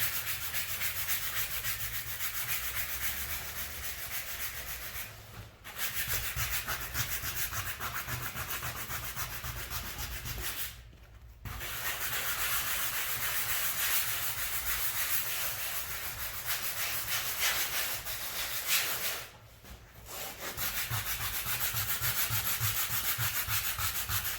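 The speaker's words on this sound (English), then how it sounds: "I'm going to take my sanding sponge" Steady, close rubbing and scraping as something is sanded back and forth continuously, broken by three brief pauses.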